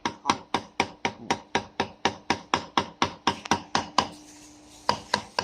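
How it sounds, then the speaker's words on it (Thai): A cleaver chops meat for Thai laab on a wooden cutting board, about twenty sharp, evenly spaced thuds in a fast steady rhythm, close and distinct, with a brief pause near the end. "ฟังเสียงเขียงแน่น ๆไปเลย"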